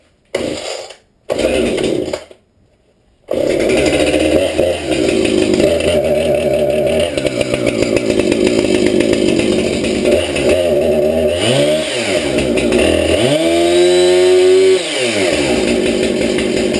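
Husqvarna 455 Rancher chainsaw after a drive sprocket replacement, pulled over a few times then running close and loud, idling with a slight hesitation before several strong revs rise and fall.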